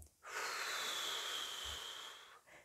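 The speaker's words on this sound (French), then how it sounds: "souffler la réserve qu'on a toujours dans nos poumons" A singer, practising belly-supported breathing, blows out the air left in the lungs in one long, steady, breathy exhale lasting about two seconds, close and soft, followed by a brief faint breath.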